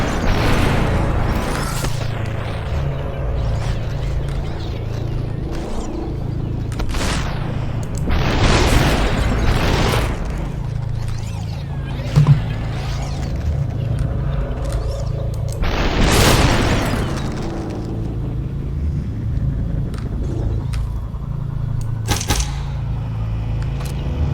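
Gunshots and booming impacts in Superhot, irregular loud bursts spread through a steady low droning game backdrop, no talk.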